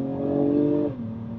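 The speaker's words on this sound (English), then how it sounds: "so I'm just gonna put my foot down through this corner here" A 2021 Acura TLX Type-S accelerates hard through a corner, its engine a steady, loud, close drone that drops in pitch near the end as the car settles.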